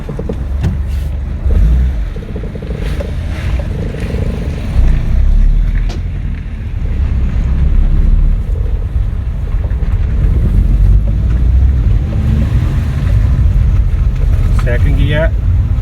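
A Fiat 500 is driven along, heard from inside as a steady low engine and road rumble with wind buffeting the microphone, loud and continuous throughout.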